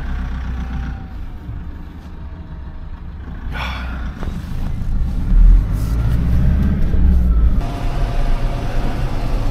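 A farm vehicle drives along with a low, rumbling engine drone that swells and eases, joined by clattering and knocks from the cab as it travels.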